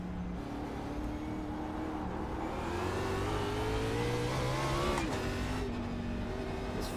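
A race car engine drones steadily in a racing video game on the Nürburgring during an esports race, its pitch slowly rising and shifting as it revs, at a moderate, fairly distant level with no voices.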